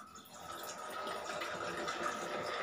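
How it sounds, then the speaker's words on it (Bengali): Boiled tea made with sugar and fennel seeds is poured out, a steady liquid splashing and trickling that continues evenly throughout, close and moderately loud. "তো আমি চা দিয়ে, চিনি দিয়ে, মৌরি দিয়ে চাটা ফুটিয়ে নিয়েছি। এবার আমি ঢেলে দিলাম।"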